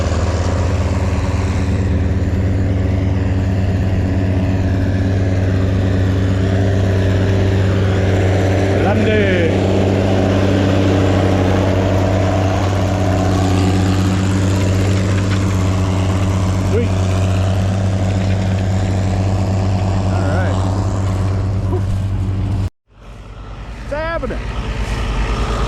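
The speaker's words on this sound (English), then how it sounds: "Does a real nice job plowing." Tractor engine working while plowing a field, a loud steady droning rumble with strong low tones that runs unbroken, then abruptly cuts out near the end before a brief softer restart, with voices faintly present.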